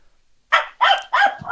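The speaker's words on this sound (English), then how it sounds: "Sounds like your dog finds that very amusing." A dog barks three times in quick succession, sharp and fairly close, each bark short with brief gaps between, in otherwise quiet surroundings.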